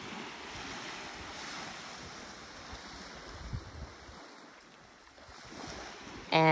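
Surf washes onto a beach with a soft, continuous hiss and gentle swells of breaking waves, faint and mixed with wind buffeting the microphone.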